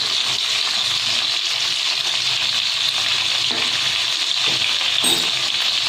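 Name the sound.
pointed gourd frying with salt and turmeric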